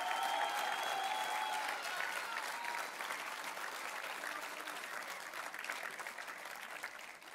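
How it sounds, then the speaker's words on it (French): A crowd applauds at a French young farmers' union campaign launch meeting, with sustained dense clapping that stays strong and even across the clip and fades slightly at the close, and a voice briefly audible at the start. "Vous pouvez applaudir les JA de Dordogne."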